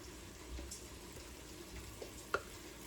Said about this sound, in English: I don't think you can see it, but it is sizzling, and that's what you want